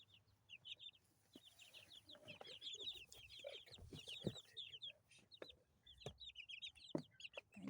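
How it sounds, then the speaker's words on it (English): Two-week-old baby chicks cheep in rapid high peeps while a mother hen clucks lower among them, a busy, close backyard brood with scattered thumps and no talking. "These are just baby chicks."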